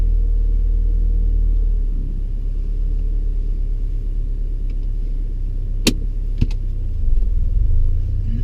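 A learner driver's car moves off and drives along a road during a lesson, with a steady low engine and road rumble, a couple of sharp clicks near the end and no talking.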